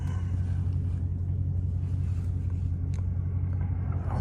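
A Dodge Charger Scat Pack fitted with mid-pipes idles in a deep, steady exhaust rumble, heard close and continuous with no talking.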